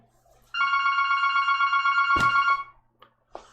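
Inside the Second Life virtual world, a phone gives one sustained electronic ring lasting about two seconds, then a sharp click and a few faint blips.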